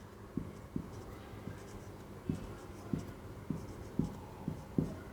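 Pen on paper while working a math ratio problem by hand: soft, irregular scratches and taps of strokes, up close and quiet, with no talking.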